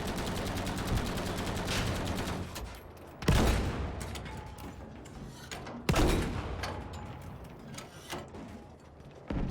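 Battlefield V gunfire rattles in steady bursts, punctuated by two heavy, sharp explosive impacts a few seconds apart, with rapid shots continuing between them at moderate loudness.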